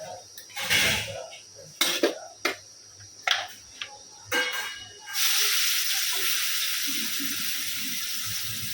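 Sliced onion hisses and sizzles in a hot pan after spiced masala goes in, for a village-style chicken dish; a few sharp clatters come first, then a steady close frying hiss continues alone.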